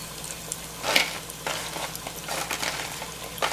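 Buffalo ribs deep frying in grease give off a steady, close sizzle with crackling bursts and sharper pops near the start and end, and no voices.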